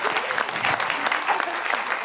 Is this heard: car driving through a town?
no